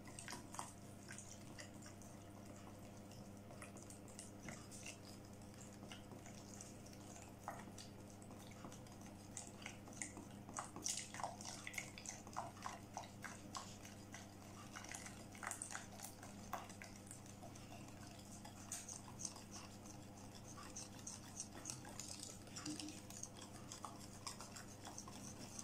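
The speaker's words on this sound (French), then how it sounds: "je vais continuer à remuer." A spoon stirs a coconut flan mixture in a bowl with soft, continuous scraping and faint clinks, quiet and close for the whole stretch, with no voices.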